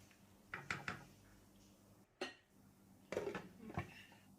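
A metal lid set down on a pot of mutton curry, giving a few short clanks and clinks near the mic, with a sharper knock in the middle and a final clatter, over a quiet kitchen background.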